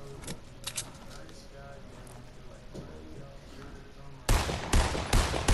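Video game gunshots, faint scattered pops under steady talking, then a sudden loud stretch of rapid automatic fire in close, punchy bursts at the end.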